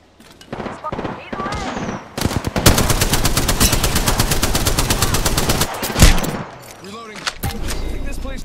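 Loud, sustained automatic gunfire in Apex Legends, a rapid stream of close shots lasting several seconds, with a brief break before firing resumes and a voice talking around it.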